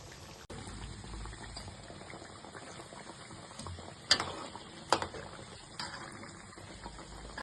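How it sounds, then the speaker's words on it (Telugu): Veg cutlets fry in a pan of hot oil with a soft, steady sizzle and bubbling, close by, broken now and then by a few sharper crackles and spits. "ఇలా గోల్డ్ కలర్లో వేగేంత వరకు వేపుకొని ప్లేట్లో తీసేసుకోండి"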